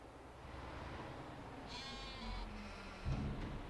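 Sheep in a Farming Simulator 22 farm pen bleat in a short, fairly clear call against a quiet game background, followed by a low thump near the end.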